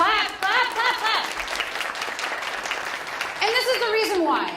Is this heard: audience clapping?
yes